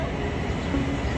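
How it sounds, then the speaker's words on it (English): New York subway train arriving at a station, a continuous low rumble with faint rail squeal, moderately close and without speech. "And here's our train, so I'll have to finish the food review a bit later."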